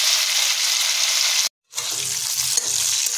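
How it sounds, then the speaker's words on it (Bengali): Diced pointed gourd (potol) sizzles and fries steadily in a kadai over a high flame, a loud continuous hiss with a brief silent gap midway. "এগুলোকে আমরা কড়াইতে আরও মিনিট 5 ধরে ভাজা করে নেবো"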